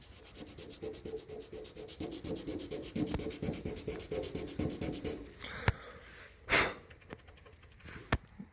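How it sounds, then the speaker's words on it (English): Carbon fiber car hood being gently sanded by hand with 320 grit sandpaper: soft, rapid, rhythmic scratchy strokes close up, followed by a few faint taps and rustles. "I'm gonna gently sand this with 320, just to roughen the surface."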